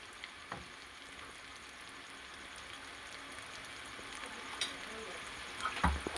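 Red chili powder drops into hot oil while cooking a kantola (spiny gourd) curry, producing a steady soft sizzle and frying hiss that swells with a few stirring clinks near the end.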